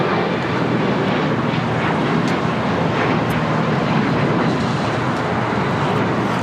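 A United 737 MAX 9 at LAX spools up for its takeoff roll, a loud, steady jet roar that fills the whole moment without letting up.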